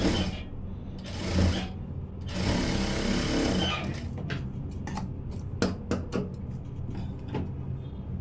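A sewing machine stitches along a blouse hook strip, opening with longer whirring runs and then short bursts and clicks as the fabric is worked, at moderate volume with no talk.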